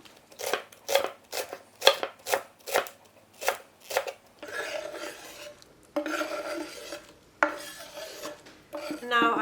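A knife chops celery on a cutting board in a kitchen, a run of quick, crisp, evenly spaced cuts followed by a few longer scraping strokes, close and alone.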